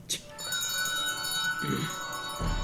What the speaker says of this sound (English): Jingle bell, jingle bell.